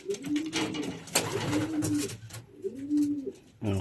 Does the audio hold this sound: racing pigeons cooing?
yes